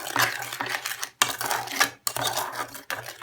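A utensil whisking dry cake ingredients with half a glass of water in a bowl, rapid scraping and clinking strokes in three bursts separated by short pauses, close and fairly loud with no speech.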